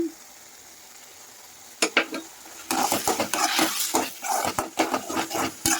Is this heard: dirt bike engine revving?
no